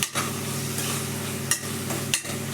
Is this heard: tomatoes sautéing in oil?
yes